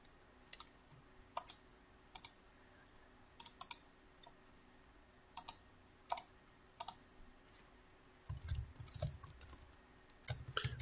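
Quick clusters of crisp keystrokes on a computer keyboard, close and isolated in a quiet room, typed in short bursts with pauses, followed by a faster run of softer tapping.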